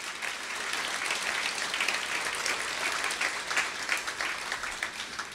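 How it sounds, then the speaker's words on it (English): An audience at a university research building's grand opening ceremony breaks into applause, a steady, moderately quiet patter of many hands clapping for several seconds. "Yes, we can applaud for that, by all means."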